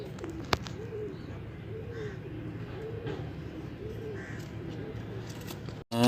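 Pigeons at the Lalukhait bird market coo in a steady, repeating rhythm of soft rolling calls, close and clear over a quiet background murmur, with one sharp click near the start and a bump at the end.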